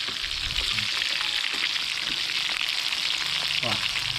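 Duck pieces for Thai duck larb frying in a pan, a steady loud sizzle and crackle with occasional stirring clinks throughout.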